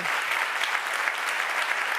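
A plenary session audience in Montréal applauds a photographer with steady, even clapping that stays moderately loud and uninterrupted throughout.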